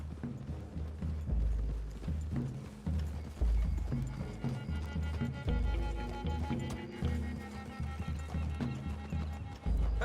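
Horses in Red Dead Redemption 2 trot through trees, steady clip-clop hoofbeats rolling continuously for ten seconds, close and loud, with faint snorts and rustling mixed in.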